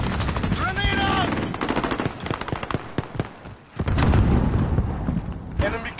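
Grenade toss amid gunfire in the Modern Warfare video game, dense rapid automatic shots crackling continuously with a brief lull, then a loud burst of blasts and renewed firing, radio-style voice callouts mixed in.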